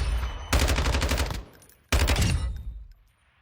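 Lockman gun firing in Warzone 2: two loud, close bursts of rapid automatic fire, each lasting about a second with a short pause between, with no talking.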